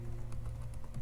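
Faint, quick keystrokes on a computer keyboard come as several soft, irregular clicks over a low background hum.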